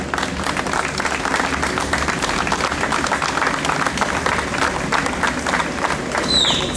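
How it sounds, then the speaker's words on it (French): A crowd applauds loudly for a local mountain bike champion, French Master 30-34 title holder, during a cycling stage event in Digne, dense energetic clapping sustained throughout with a faint whistle near the end. "Je vous demande de l'applaudir bien fort."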